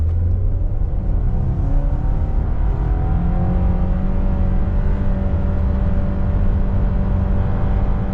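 A lifted Subaru Crosstrek with a CVT accelerates from 0 to 60, its engine droning loud and steady as the pitch rises and then holds, with road and tire rumble underneath and no talk.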